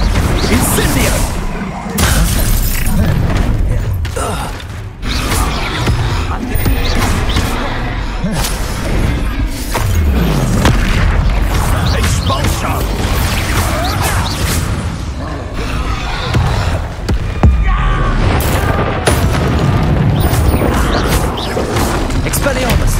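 Incendio fire spells erupt in a Hogwarts Legacy duel as dense, loud bursts and crashing booms, with whooshes and impacts layered over continuous battle noise and spoken game dialogue.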